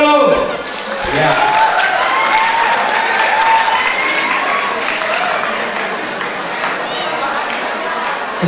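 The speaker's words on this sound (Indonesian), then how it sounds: "Tepuk tangan dulu." A seminar audience applauds at an international cyber campus workshop, a dense, steady wash of many hands clapping close by that fills the whole stretch, with faint crowd murmur underneath.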